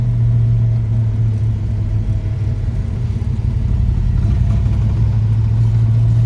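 A 1967 Ford Mustang Convertible engine rumbles steadily while driving, with a low, continuous mid-pitched drone and faint variations in throttle, loud and close, with no voices.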